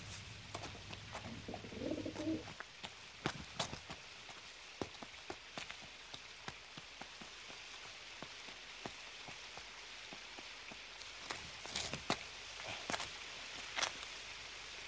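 Pigeon cooing in an animated 1986 film, a soft low coo near the start set against steady rain pattering on surfaces with scattered drip ticks, no voices.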